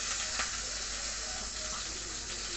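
Mustard seeds, asafoetida and cumin sizzle in hot oil in a pan, a steady bright hiss with faint crackling that stays even and close throughout.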